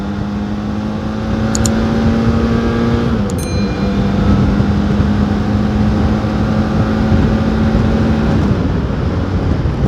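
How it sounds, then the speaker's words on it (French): A BMW F 700 GS motorcycle pulls hard in third gear near 90 km/h, a loud sustained engine drone with a steady pitch and a brief dip before holding again, wrapped in heavy wind roar. "j'ai mis un coup d'accélérateur hein."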